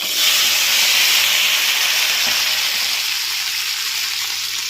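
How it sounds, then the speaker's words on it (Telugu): Tempering spices and dal hit hot oil for a drumstick, tomato and carrot curry, a loud, close, hissing sizzle that fills the whole stretch and eases slightly toward the end, with no voices. "ఆయిల్ అయితే పెట్టాను పోపు వేసుకుంటున్నాను పప్పు అయితే కాలింది ఇవన్నీ వేసేసుకుందాం"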